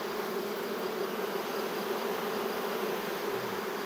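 A dense, steady hum of honeybees fills a hive after swarming, and a sustained buzzing tone runs unbroken throughout.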